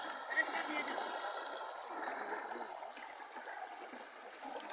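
Strong water current rushes through a roadside culvert at a riverside fishing spot in Maranhão, a steady, faint broadband flowing hiss that continues without break.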